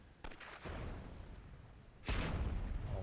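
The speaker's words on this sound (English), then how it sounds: "Meanwhile, just lobbing some cannons," Cannons fire in the video game Myth II, set in a WWII scenario: a few separate booming shots with sharp attacks, the last one heaviest, over a low battlefield rumble.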